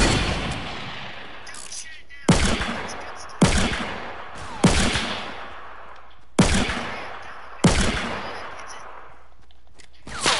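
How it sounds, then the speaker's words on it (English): Hunting rifle gunshots in a video game: six loud, sharp cracks, irregularly spaced over ten seconds, each one decaying into a short echoing tail. "I'm gonna get the hunting rifle out"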